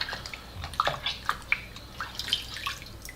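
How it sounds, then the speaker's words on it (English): Water is splashed and cupped against the face to rinse off facial cleanser, making close, irregular wet splashes and drips over a soft running-water hiss. "And then you can rinse it out."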